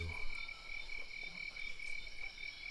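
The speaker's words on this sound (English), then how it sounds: "Yeah, crickets are on." Crickets chirp outdoors in a continuous, steady, high-pitched pulsing trill, faint and far off, with no voices.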